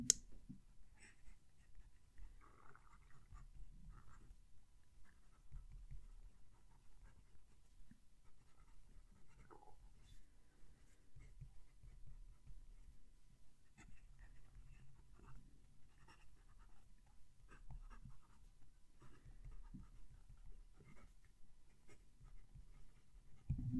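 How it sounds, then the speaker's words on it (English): Faint, close scratching of a fountain pen across paper, soft and continuous with small irregular strokes, in a quiet room. "move the mic closer to the paper so you can hear the pen as it writes"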